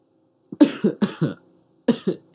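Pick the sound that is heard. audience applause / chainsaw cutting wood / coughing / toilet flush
coughing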